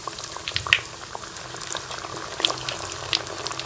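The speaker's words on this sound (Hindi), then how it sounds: "अब हम इसमें नगेट्स जो है वो फ्राई कर लेंगे" Aloo (potato) nuggets bubble and crackle in hot oil, a steady soft simmering fizz broken by a few sharper pops, close and moderately quiet with no talking.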